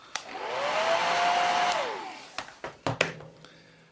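A hair dryer used to dry paint switches on and runs with a steady, whining blow that rises slightly and then winds down, followed by a few soft clicks and knocks.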